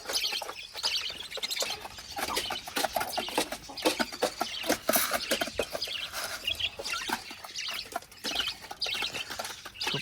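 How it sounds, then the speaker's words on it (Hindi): Hens cluck in rapid, irregular bursts on a small farm, with several birds calling close by and some wing flapping, and no talk over them. "मुर्गी हमारी खा पी के दोबारा देखें अंडों पर बैठ रही है अभी।"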